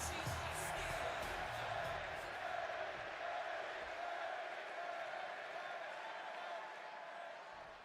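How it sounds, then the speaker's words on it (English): A big arena crowd in Chicago roars and cheers for CM Punk in the WWE 2K26 wrestling game, a dense sustained wash of noise that slowly fades toward the end. "And just listen to this crowd here in Chicago."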